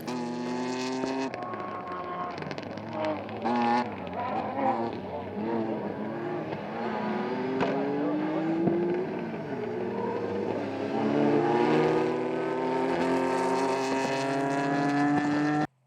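Rally cars from the New Zealand Rally Championship South Canterbury round race on a gravel stage, Group A challenge cars among them. Engines roar and rev steadily throughout, rising and falling in pitch as the cars accelerate and pass close by.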